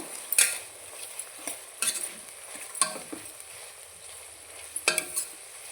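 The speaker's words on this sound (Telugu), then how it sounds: "ఇప్పుడు మిల్ మేకర్స్ వేసుకుందామండి." Meal maker soya chunks frying in a pan for biryani give a soft sizzle, punctuated by a few distinct metallic clinks and scrapes of the spatula being stirred, close and fairly quiet, with no voices.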